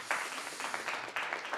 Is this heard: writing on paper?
no